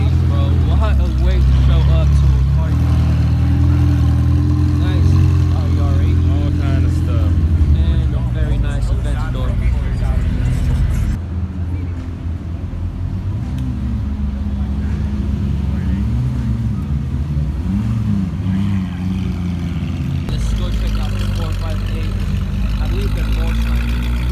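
A Ferrari 488 at a Northern California supercar gathering rumbles nearby with a deep, sustained engine note that swells and eases, while people talk over it throughout.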